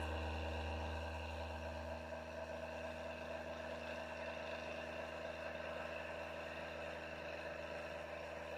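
A custom toroid and coil electric motor spinning up, with a steady tonal whine and layered harmonic hum, even and sustained at a low level and with no talking.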